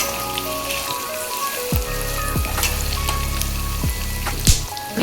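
Turmeric goes into hot oil for a tempering, making a dense, crackling sizzle. Several sharp clacks and knocks, like a spoon tapping the pan, break through up close, and no one speaks.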